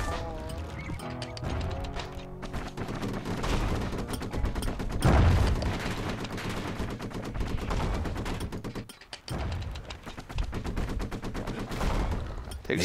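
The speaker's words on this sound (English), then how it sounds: "Power shot." Power-shot gunfire in the action video game Bastion, with dense bursts of shots and crashes over game music and effects, heard at moderate level throughout.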